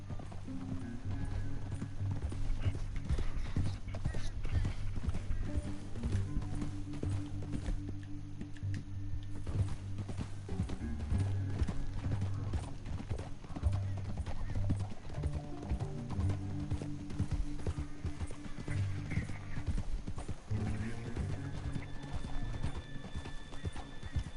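Horse hooves gallop steadily in a continuous rhythmic clip-clop, with a neigh and background music-like tones throughout, in the video game Red Dead Redemption 2.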